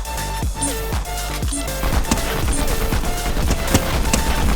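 Automatic assault rifle fire crackles in rapid bursts during a Fortnite match, over a busy in-game soundscape of tonal effects and impacts.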